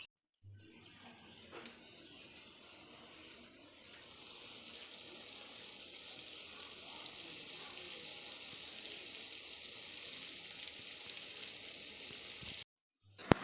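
Battered eggplant fritters (beguni) fry in hot oil with a steady, even hiss that swells slightly and continues for several seconds, then stops briefly near the end.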